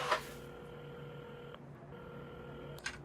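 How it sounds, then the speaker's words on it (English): A telephone at a café counter being dialed, with a short click at the start and a soft tonal hum holding steady underneath, broken by a brief pause and ending in another sharp click. "at the counter, Carmen had started dialing the phone"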